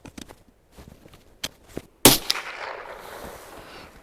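A single sharp .22LR gunshot from a Remington Yellow Jacket round cracks out loudly midway with a trailing echo, preceded by faint clicks and handling noises.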